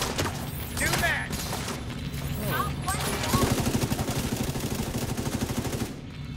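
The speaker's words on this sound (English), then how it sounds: "Someone is shooting at me from the left side." Rapid bursts of automatic gunfire in The Division 2 during a solo hard-difficulty fight at the Viewpoint Museum, loud, sharp reports turning into a fast rhythmic stream of shots under background chatter.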